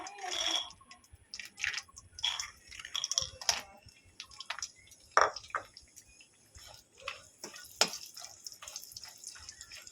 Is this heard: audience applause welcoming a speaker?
no